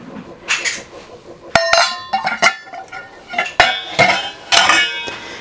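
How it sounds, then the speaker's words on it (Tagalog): Cornstarch pancake batter mixed by hand in a bowl, with repeated sharp clinks and knocks of a bowl, utensils and dishes, close and moderately loud, in irregular bursts over quiet kitchen background. "hahaluin ko na lang siya sa aking kamay, guys."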